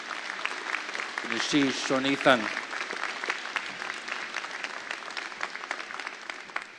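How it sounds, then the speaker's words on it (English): Steady audience applause for graduates and their families at a 2025 convocation, continuous clapping throughout, with a voice speaking briefly over it near the start. "please give a big round of applause to our graduates and our families"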